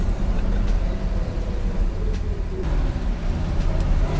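A 1969 COPO Camaro replica with a 427 engine drives along, its steady, loud rumble and road roar filling the cabin without a pause.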